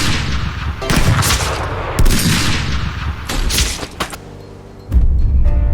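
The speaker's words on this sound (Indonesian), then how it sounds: "Itu baku tembak yang brutal." Rapid bursts of gunfire crack through a brutal film gunfight, with dense volleys and heavy booms arriving in clusters, a short lull, then a final loud blast.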